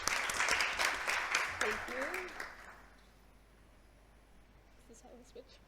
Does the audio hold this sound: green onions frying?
no